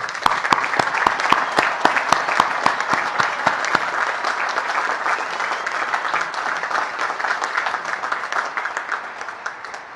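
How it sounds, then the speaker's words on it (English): Sustained applause from a large crowd at a United States Military Academy graduation ceremony, with sharp individual claps up front at first that blend into a steady, dense roar of clapping lasting throughout. "Join me in a round of applause for these groups."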